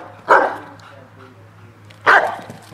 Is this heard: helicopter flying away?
no